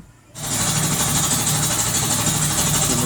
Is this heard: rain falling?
no